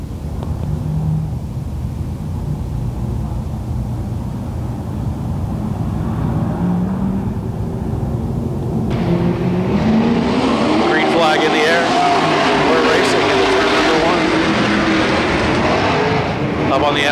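Super Stock race cars roar around the Petaluma Speedway oval, engines loud and continuous with rising and falling pitch as the field passes, under an announcer's steady commentary.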